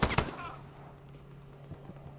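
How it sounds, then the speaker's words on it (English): Burst of gunfire from the World War II shooter Hell Let Loose during an 18v18 tournament match, a loud opening volley of rapid shots that quickly fades into a low steady hum with a few faint distant pops. "They're just getting crossfired by Fetcher."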